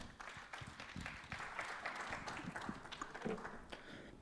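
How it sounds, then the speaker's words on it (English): Audience applause for a panel at a brand event in Asia, steady dense clapping with scattered sharper claps and a few cheers, moderately loud throughout. "Give them a huge round of applause before I call them on stage."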